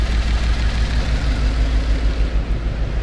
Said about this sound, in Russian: Вот эта вот половина работает с перебоями. Вот. Прям его колбасит конкретно. То есть половина мотора не работает